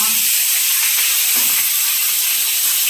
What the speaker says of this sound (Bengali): অল্প একটু তেলের উপরে কচু শাক দেবে।